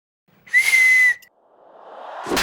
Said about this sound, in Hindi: पुलिस स्टेशन में हिम्मत कैसे हुई थारी सीटी मारने की?